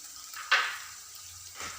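Egg roast masala sautéing in a pan, a soft sizzle with a brief burst of louder frying and stirring scrapes, quiet and close, no talking.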